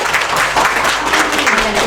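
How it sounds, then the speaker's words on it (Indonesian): Short burst of audience clapping at a school program presentation in Pasuruan, dense and fairly loud, with a faint voice or tone beneath. "Tepuk tangan dong."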